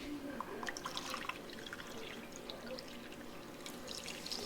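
White vinegar being poured into a cooking pot for squash relish, a steady trickling, splashing liquid stream heard close and moderately quiet, with no talking over it.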